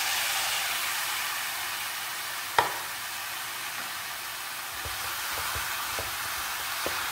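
Chopped narambhan sizzles steadily in a hot pan for a Kasaragod-style narambhan and payar upperi, with a sharp clink and soft scraping stirs near the end, close and continuous with no talking.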